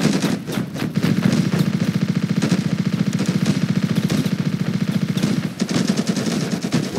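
Rapid automatic gunfire rattles continuously in the Ravenfield video game, a dense string of close shots with a brief pause before firing resumes.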